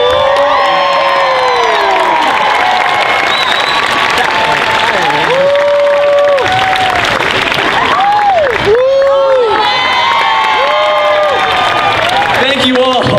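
A large convention crowd at a nighttime costume contest applauds loudly, with whoops, shouts and cheering voices rising over dense continuous clapping throughout.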